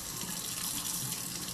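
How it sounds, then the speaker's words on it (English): Water runs from a tap in a steady, even hiss of flowing water, moderately close, with no talk over it. "Turn the water off."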